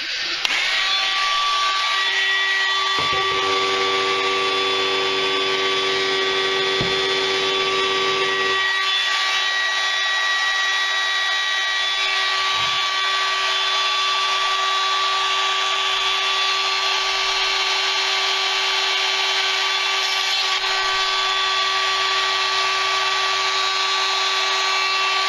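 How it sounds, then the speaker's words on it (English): Dremel rotary tool drilling out a carburettor jet held in a pin vise, a steady high-pitched motor whine running loud and continuous throughout, with a lower grinding tone in the first few seconds. "I'm using a Dremel."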